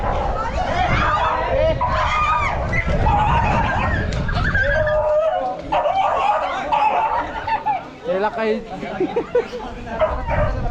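Small dogs bark and yip in short bursts on a muddy trail on the Raireshwar plateau near Bhor, Pune, mixed into loud nearby chatter from people talking.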